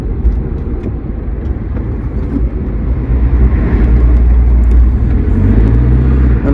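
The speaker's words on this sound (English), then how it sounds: "The Land Rover is working." A Land Rover Discovery 200Tdi diesel engine runs on the road from inside the cab, a loud deep droning rumble that grows slightly and steadies with a rising tone near the end.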